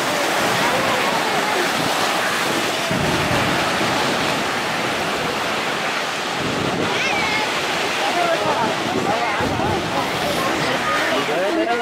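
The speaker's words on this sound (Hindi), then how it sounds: "पानी पानी है चारों तरफ, पानी पानी" Rushing water all around, a dense continuous roar like surf or pouring water with wind buffeting the microphone, loud and unbroken for the whole stretch.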